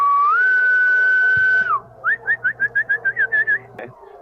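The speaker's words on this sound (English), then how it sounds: "staggers to his feet and whistles the dogs away." A long sustained human whistle that bends up, holds, then drops, followed by a quick series of about ten short chirping whistle bursts, loud and close. It is a call to draw dogs away.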